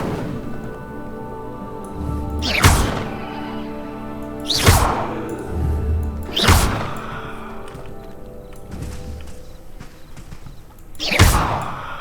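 Spell casts in the Hogwarts Legacy video game, with several whooshing bursts of fire spaced a few seconds apart over a low ambient game backdrop, each swelling and fading quickly.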